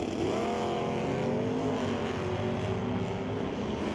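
Stock and Super Stock drag cars, including a 1977 AMC Pacer wagon with an automatic, roar steadily down the strip at an NHRA race, a rising engine drone heard from a distance with no talk over it.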